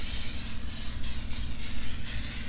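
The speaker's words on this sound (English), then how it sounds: "And now I'm going to give it just another squirt." A spray bottle of adhesive squirted onto window clings: a dense, continuous hiss of aerosol spray lasting a couple of seconds, loud and close, with no talking.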